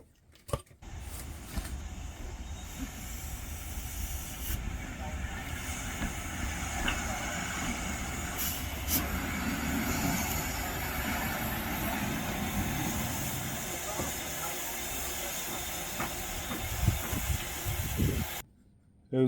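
A Rapido 1501 Pannier tank model locomotive runs with its sound fitted, giving a steady, low rumbling chuff with faint clanks and a light hiss throughout that cuts off near the end.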